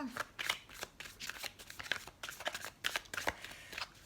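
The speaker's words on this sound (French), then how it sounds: "on va tirer quelques cartes pour le domaine sentimental" Tarot cards are shuffled by hand for a reading, a run of close, crisp riffling bursts in an uneven rhythm, with faint speech also present.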